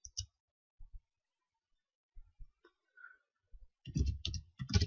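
Computer keyboard keys clicking as code is typed, sparse single taps, then a quick close burst of keystrokes.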